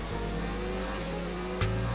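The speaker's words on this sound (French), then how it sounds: "On passe vite la deuxième pour bien freiner." An F1 car engine in the F1 2019 video game at the Bahrain Grand Prix drones steadily, then drops sharply in pitch with a quick downshift to second gear under braking.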